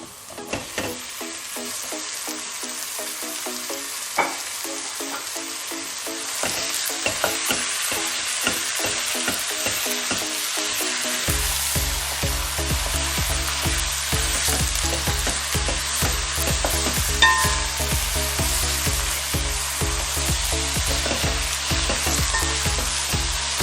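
Ground meat frying for Sicilian lasagna, a steady loud sizzle that swells once the meat hits the pan, with repeated stirring scrapes and clatter throughout and no talking.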